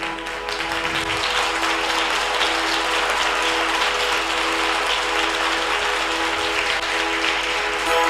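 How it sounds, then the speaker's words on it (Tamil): A church congregation claps to welcome the preacher, with dense, steady applause filling the whole stretch at an even level and no voices breaking through. "நான் இந்த கைத்தட்டலை எதிர்பார்க்கலை"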